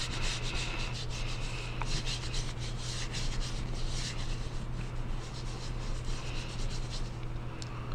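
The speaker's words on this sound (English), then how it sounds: "It's down, and I'm gently going to rub." A hand gently rubbing paper laid over a painted print, producing a soft, steady brushing and scuffing sound up close, continuous and quiet throughout.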